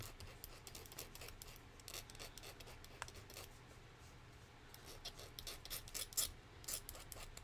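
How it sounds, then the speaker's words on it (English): Small metal piece being filed by hand during jewelry crafting with vintage brass findings, producing quiet, close, repeated rasping strokes in an irregular rhythm over a low background hum. "Just filing a little bit here off the camera"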